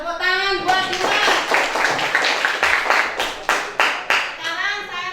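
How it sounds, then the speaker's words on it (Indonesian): A classroom of ninth-grade students claps for a classmate in a rhythmic, fairly loud burst of hand claps, with a voice speaking at the start and end. "tepuk tangan buat Dimas."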